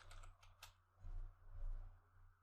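Soft, quick clatter of typing on a computer keyboard, a few light keystrokes in a short burst, faint and close, over a low steady hum.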